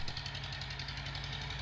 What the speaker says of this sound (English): Farmer Bill was happy to hear Mac's smooth chugga-chugga-chugga again.